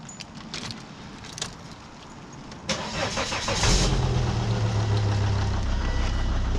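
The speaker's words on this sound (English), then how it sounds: "I'm going to start the car with that tube off." Keys jingle, then a Volvo XC70 D5 diesel engine cranks and catches with a turbo tube disconnected, settling into a steady, rumbling idle close by.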